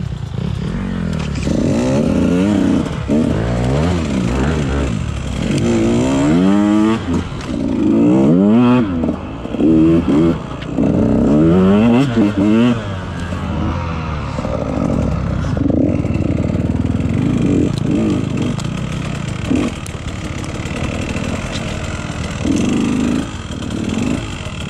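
Dirt bike, an XXXCW150, riding through freshly cut ground, its engine buzzing and revving continuously nearby with rising and falling pitch, clattering and scraping over the terrain for the whole stretch.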